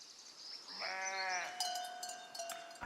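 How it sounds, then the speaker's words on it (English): Sheep in the village-building video game Foundation bleat in a wavering, drawn-out call at moderate volume, followed by light clinking and tapping sounds, with no talking. "just take a look at these nice, cute looking sheep"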